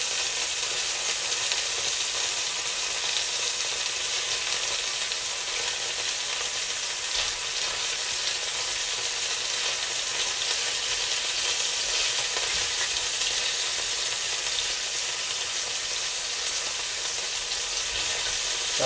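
Meatballs fry in hot oil in a pan with a constant, even sizzle and crackle that carries on unbroken and fairly loud throughout, with no talking.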